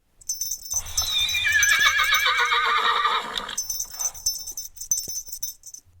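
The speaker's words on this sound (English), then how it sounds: "the horse does neigh at the beginning, so the horse does get some voice, at least here in this Ronette's version of Sleigh Ride" A horse whinnies loudly at the opening of the Ronettes' Sleigh Ride recording: one long, wavering neigh, followed by quieter clip-clop and jingling.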